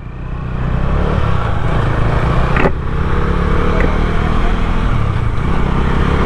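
Motorcycles revving and pulling away at the start of a street drag race, a loud, continuous engine roar close by with faint voices in the background.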